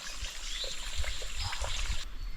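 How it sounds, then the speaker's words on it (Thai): Water trickles and gurgles steadily in a small stream, close by, with soft splashing bubbles and no talking. "น้ำไหลอยู่"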